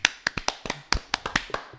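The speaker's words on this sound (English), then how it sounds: "Round of applause for that guy." A small group claps for a guest on a casual talk podcast, the sharp, separate claps landing close and crisp at an uneven rhythm of about ten in under two seconds, with no talking.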